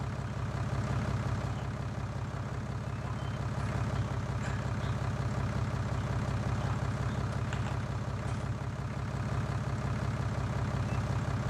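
Tractor engine idling in Farming Simulator 19, a steady low diesel rumble holding unchanged and loud throughout, with no speech over it.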